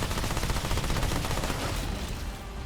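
Fast automatic gunfire from the MP60 sidearm in the video game Remnant 2, a continuous rattling stream of shots, loud and close, tapering slightly at the end.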